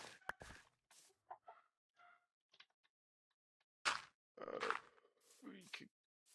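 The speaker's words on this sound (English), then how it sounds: "we got the chickens" Chickens cluck in short, scattered bursts inside the Minecraft video game, separated by quiet gaps and rising to a few louder clucks near the end.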